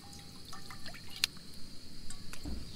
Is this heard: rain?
no